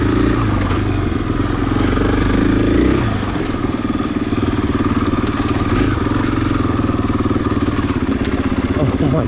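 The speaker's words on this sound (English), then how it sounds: "To go through here on a dirt bike." 2020 Husqvarna FE501S dirt bike ridden off-road, its single-cylinder engine droning loudly and steadily close by, with rough clattering from the terrain and brief revving.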